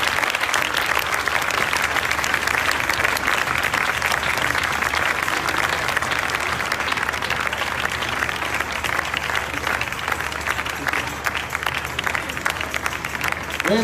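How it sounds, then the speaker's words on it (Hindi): A worship festival audience claps loudly and steadily as a dense, sustained wash of applause that fills the space from start to finish. "जोरदार तालियां खुदा के खादम के लिए बजानी है"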